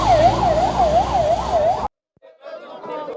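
At a farmers' road blockade, an ambulance siren wails loud and close in a steady rising-falling cycle, then cuts off abruptly, leaving fainter background sound.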